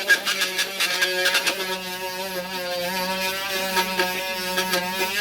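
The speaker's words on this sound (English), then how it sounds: "I'm going to start with my Dremel and see if I can just get this circle out" Dremel rotary tool cutting a circle out, a steady high-pitched motor whine with a buzzing harmonic tone that wavers in short surges as the bit bites, heard close and continuous.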